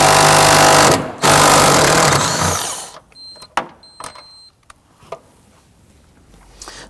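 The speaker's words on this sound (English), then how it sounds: "Now we're going to use our 13mm socket," A 13mm socket on a powered driver loosens and removes a bolt during a fuel pump module replacement on a 2001-2009 Volvo S60 2.5L five-cylinder: a loud, continuous motor whir for about three seconds, then scattered metallic clicks and taps.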